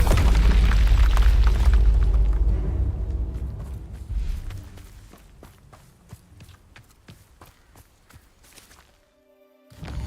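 The Bombarda blasting spell goes off in Hogwarts Legacy as a heavy booming explosion that slowly rumbles away into scattered crackles and debris, with no voice over it.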